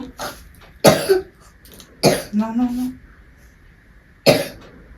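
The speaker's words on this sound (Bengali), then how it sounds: "কাশছে তো" Three or four sharp, loud coughs come at irregular intervals, close up, with brief speech in between.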